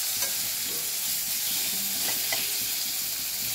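Eggplant pieces frying lightly in a pan for hilsa curry, with a steady close sizzle and a few soft stirring scrapes, no voices.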